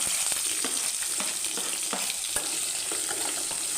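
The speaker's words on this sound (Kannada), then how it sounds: "ಈರುಳ್ಳಿ ಹಾಕ್ಕೊಂಡು ಲೈಟಾಗಿ ಸ್ವಲ್ಪ ಕಲರ್ ಚೇಂಜ್ ಆಗಬೇಕು ಅಲ್ಲಿ ತನಕ ಫ್ರೈ ಮಾಡ್ಕೊಳ್ಳಿ" Chopped onion sizzling in hot oil with chana dal in a pan, a steady close crackle broken by a few soft stirring scrapes and no talk.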